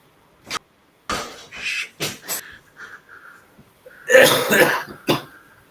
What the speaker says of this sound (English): I've got a bit of cough still.